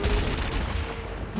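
A cannon weapon in the racing game Wipeout fires a rapid, dense volley of booming shots that blur into a continuous rumble, loud and unbroken by speech.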